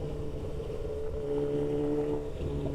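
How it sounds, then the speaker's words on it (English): Harley-Davidson motorcycles running nearby at a motorcycle club gathering in Atlanta, a continuous low engine rumble with a steady droning hum and no talk. "Oh, them Harleys behind me, I hear them."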